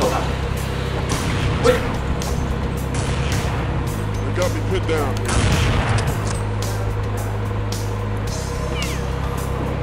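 Gunfire in the Counter-Strike video game rings out as scattered sharp shots over a constant engine-like drone, while someone talks over the action.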